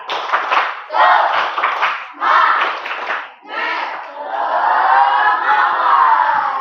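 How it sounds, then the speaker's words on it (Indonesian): A school class repeats the 'tepuk semangat' clapping chant in a loud, close group performance. Several rhythmic bursts of claps mixed with chanted syllables come at an even pace. They end in a drawn-out collective shout. "Sekali lagi, tepuk semangat."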